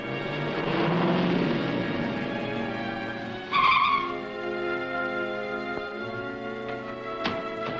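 A car speeds off with tires skidding and squealing in a 1941 serial chase scene, engine noise steady throughout and a sharp squeal burst midway, with no talking.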